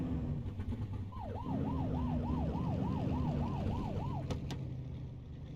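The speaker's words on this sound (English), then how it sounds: "Get on their tail and blip the siren." A police siren in the video game The Precinct wails in a fast, rising-and-falling pattern for about three seconds over a steady engine hum, followed by a couple of sharp clicks.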